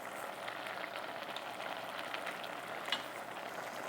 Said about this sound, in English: I'm giving everything a good stir, and I'm going to let it cook for about 5 minutes